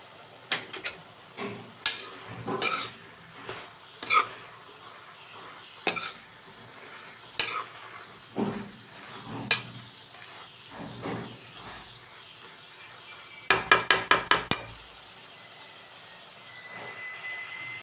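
Potato and fenugreek leaf stir-fry cooks uncovered over a flame, a soft low sizzle punctuated by scattered sharp spatula knocks and a quick rapid burst of taps near the end, no voices.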